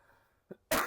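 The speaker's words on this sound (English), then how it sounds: "I'm gonna cough really hard." One short, hard cough bursts out at the end after a small breathy catch, close and sudden in a quiet room.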